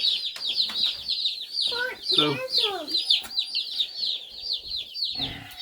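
Rapid high-pitched peeping from several baby chicks runs steadily throughout, with a voice speaking briefly over it in the middle.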